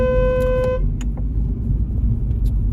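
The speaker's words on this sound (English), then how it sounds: "that was me beeping at the car ahead of me" A car horn gives one steady, fairly loud honk lasting under a second, then cuts off, leaving the low rumble of a moving car and road traffic.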